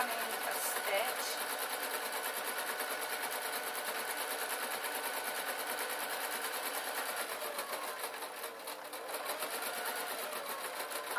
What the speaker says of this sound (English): this is just literally a straight running stitch.